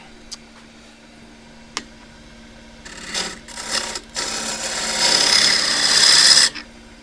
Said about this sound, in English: Still with a 1/2 inch spindle gouge.